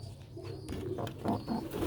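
Soft, low cooing of a pigeon close by in a coop, a few throaty rolling calls in quick succession over quiet background.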